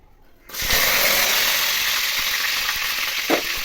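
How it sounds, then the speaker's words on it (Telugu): Onion pieces drop into hot boiling oil and set off a sudden loud, steady sizzle of frying that keeps going, with faint clinks from the pan now and then. "ముక్కలు ఆయిల్ మరుగుతుంది, ఆయిల్లో వేసుకోవచ్చు"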